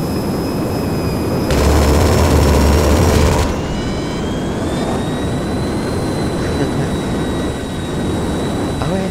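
A heavy paper airplane in Garry's Mod flies with a loud jet-engine roar that swells into a brief, harsher burst, then settles into a steady whine and rumble.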